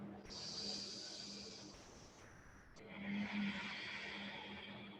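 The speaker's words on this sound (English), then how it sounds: "I hear Ujjayi breath." Slow, steady breathing during a yoga breathing exercise, a long breathy hiss with a soft throaty rasp at the back of the throat, close and fairly loud, continuing without a break for several seconds.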